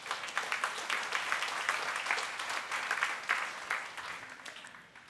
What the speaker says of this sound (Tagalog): Ba't di mo pinapalakpakan si Lord?